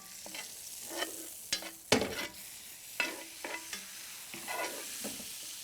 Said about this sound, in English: I'm kind of beating up the leaves a little bit just to kind of help get those oils into the butter itself